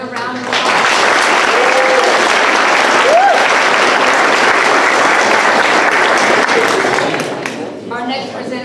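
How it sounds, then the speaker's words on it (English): An audience at a middle school 8th grade academic awards ceremony gives the award-winning students a round of applause, a thick, loud, steady wash of clapping for about six seconds that then tapers off. "Let's give all these students another round of applause."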